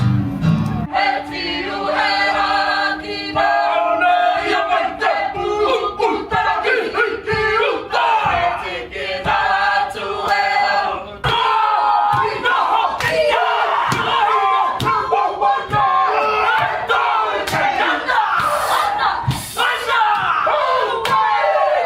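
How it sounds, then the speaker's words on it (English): A Maori haka war dance is performed live at a farm show in Auckland, New Zealand: loud rhythmic group chanting and shouts punctuated by sharp slaps and stamps, sustained throughout. "This is our posture war dance, or the haka."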